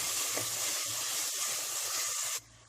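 Onions with ginger garlic paste sizzle and fry steadily in a pan on high flame, a close, continuous hiss with faint stirring that cuts off sharply near the end.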